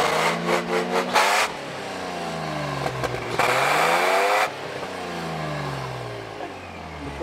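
A Toyota FJ Cruiser engine revs hard and loud as the gas pedal is pressed, rising in pitch in repeated surges with a sustained roar between them.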